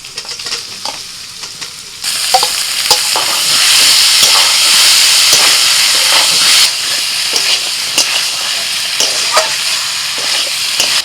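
Marinated soya chunks added to cooked-down spice masala in a hot pan, with a loud sizzle that bursts in after two seconds, then sustained hissing frying and occasional stirring scrapes, fading slightly toward the end.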